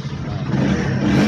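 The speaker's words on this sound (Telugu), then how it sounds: "కీ ఆన్ చేసి సెల్ఫ్ చూడండి కొట్టాను." A Honda CBR 150R motorcycle with a faulty one-way starter clutch cranking on its electric self-start, a loud, continuous low churning whir held close for the whole stretch with no talking.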